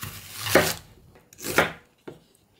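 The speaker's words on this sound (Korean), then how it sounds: "얇게 썰어주세요" A knife thinly slicing half an onion on a cutting board, two rasping strokes then a lighter third cut, close and crisp with quiet gaps between, no voices.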